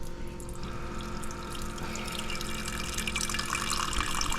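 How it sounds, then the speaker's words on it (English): Water flushing through a SimPure Y7P-BW reverse osmosis system as its internal tank empties, a steady close rushing and trickling stream with a low pump hum, continuous throughout with no talking. "Now I'm gonna hit filter again, or flushing again, sorry."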